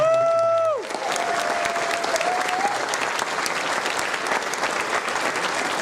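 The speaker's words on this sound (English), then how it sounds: "Everybody, big round of applause for two of the best guests of honor." At a megaplex closing ceremony, an audience bursts into sustained, full applause for the guests of honor just after a brief electronic tone fades, and the clapping stays dense and even to the end.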